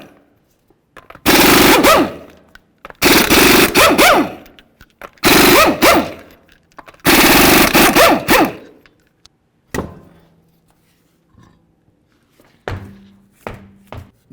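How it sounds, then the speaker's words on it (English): Five 19mm lug nuts come off a 2006-2010 Ford Explorer front wheel with an impact wrench: four loud, rattling bursts of about a second each, separated by pauses, followed by faint clinks and small handling sounds. "we're going to remove all 5 of our 19mm lug nuts and then the wheel"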